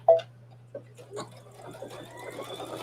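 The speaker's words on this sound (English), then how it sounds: "And you don't want to sew too fast." A domestic sewing machine stitching a seam at a slow, controlled pace, giving a soft, even mechanical hum with light ticking after a few faint clicks at the start; no talk.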